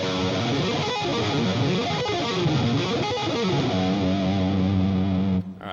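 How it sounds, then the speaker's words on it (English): Distorted electric guitar plays fast sweep-picked arpeggios, cascading rapidly up and down in steady waves, then settles on a sustained held chord before cutting off abruptly; no talking. "these are pretty cool arpeggios"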